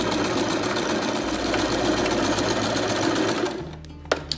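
A sewing machine stitching a decorative pattern on fabric, running as a loud, steady, close mechanical whir that stops near the end, followed by a couple of brief clicks.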